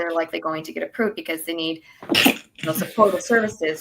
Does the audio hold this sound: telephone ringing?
no